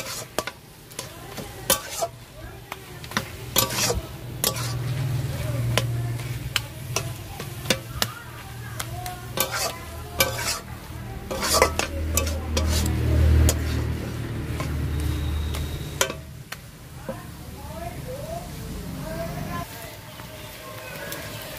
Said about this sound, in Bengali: তো আর ভালো করে মিশিয়ে আমি আর একটু নাড়াচাড়া করে নেবো।